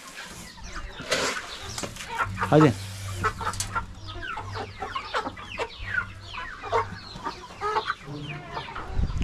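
Newly arrived dwarf Australorp hens cluck busily while being fed a mix of pigeon feed with crushed wheat and barley. The clucking is steady and close, with occasional wing flaps, and a voice speaks briefly.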